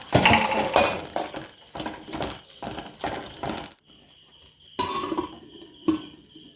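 Pasta sauce being stirred in a pan, with a lid set on top, making a run of close, sharp metallic clinks and taps. A brief quiet pause comes before a few more bangs near the end.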